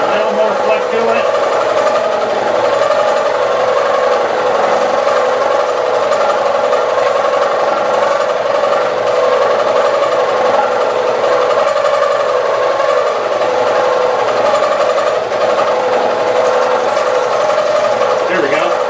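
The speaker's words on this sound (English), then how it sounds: "Chip evacuation's doing good with the flood coolant." Steady, loud metal machining with flood coolant running, a constant whirring cut with chips coming off, continuing unbroken throughout at close range.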